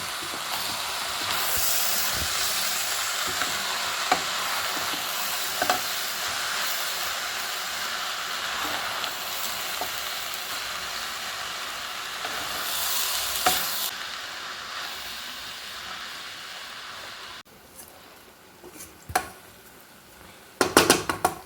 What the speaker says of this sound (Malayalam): മുളപ്പിച്ചത് വേവിച്ചത് ഇതിലേക്ക് ഇടാം നന്നായിട്ട് തന്നെ നമുക്കിതൊന്ന് ഇലക്കി യോജിപ്പിക്കാം